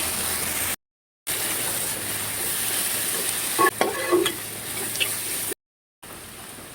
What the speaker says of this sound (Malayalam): ഇനി നന്നായിട്ട് സവാള ഒന്ന് വഴറ്റിയെടുക്കാം കേട്ടോ